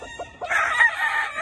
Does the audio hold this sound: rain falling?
no